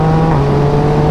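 A 2018 Yamaha MT-09 motorcycle engine holds a loud, steady, close drone while being ridden on the road, with no break and no voices.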